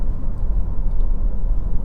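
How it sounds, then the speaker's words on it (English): Honda CR-V 2.0 i-VTEC EX 4WD engine pulling under acceleration from inside the car, a muted low-pitched intake drone with road rumble, steady and fairly loud, no talking. "when you put your foot down, you've got that lovely muted intake noise"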